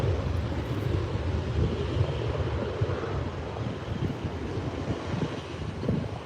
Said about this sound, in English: 737-800 lining up